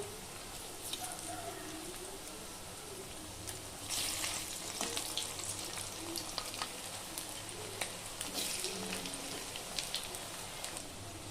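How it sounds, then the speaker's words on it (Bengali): A chowmein noodle mixture for pakoras dropped into hot oil, throwing a dense, rain-like crackling sizzle that swells louder partway through and keeps a fine popping texture throughout. "তো এই গরম হয়ে যাওয়া তেলের ওপর আমি দিয়ে দিচ্ছি এই চাউমিনের মিশ্রণ।"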